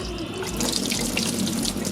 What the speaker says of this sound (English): Right, next we're just going to use cold water.